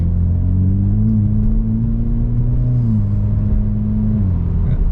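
Chevrolet Camaro 50 Years Edition muscle car engine running loud and close, a steady deep rumble that swells slightly and dips near the end, with no voices over it.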